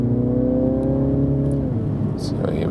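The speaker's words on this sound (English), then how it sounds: "exhaust sound is turned up" A Mini Countryman John Cooper Works with 231 hp, in sport mode with its exhaust sound turned up, gives a short close engine rev whose pitch climbs and then falls back to a rumble.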